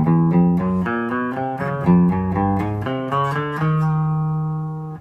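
Clean electric guitar played through a Line 6 combo amp, a sequence of picked notes and chords ringing out in steady rhythm, ending on a sustained note, close and moderately loud with no talking.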